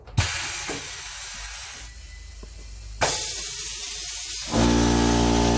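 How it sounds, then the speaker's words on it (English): A pneumatic tire changer runs as its pedal is pushed and the arm moves in and out, giving hissing bursts of air and mechanical clatter in two loud stretches, the second joined by a steadier, rising whine. "a couple more pushes of the pedal with that arm going in and out will make my compressor kick on"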